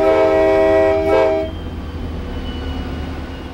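A CSX freight train horn blares loudly for about a second and a half, then cuts off, leaving the steady rumble of the moving train.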